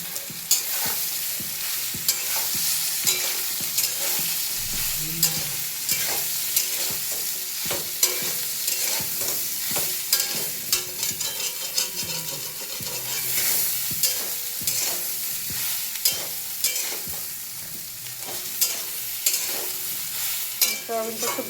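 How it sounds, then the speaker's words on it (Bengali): Potatoes and soybean chunks fry in a pan while being stirred, giving a steady close sizzle broken by regular scraping and clinking strokes of the spoon throughout. "আলুটার সাথেই সয়াবিনটাও ভেজে দেবো"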